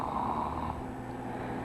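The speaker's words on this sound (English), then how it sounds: "Now snore again." A person snoring during a nasal endoscopy exam, a short, rough, buzzing snore from vibrating palate tissue, close and steady for under two seconds with no talking.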